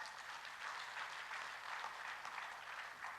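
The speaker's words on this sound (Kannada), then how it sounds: "ಜೋರ ಚಪ್ಪಾಳೆ" An audience at an LIC of India achievers' gathering in Mangalore claps together in a sustained, dense burst of applause lasting the whole stretch, heard from some distance and fairly soft.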